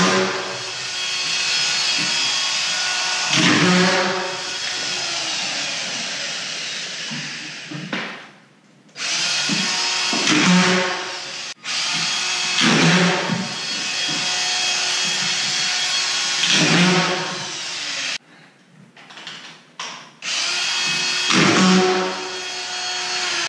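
A power drill drives screws into drywall on an interior return, giving long loud whirring bursts separated by brief pauses, with no talking.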